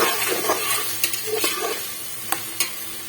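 Fenugreek seeds sizzle in hot oil with camel meat, a close steady frying hiss broken by a few sharp spoon taps against the pot.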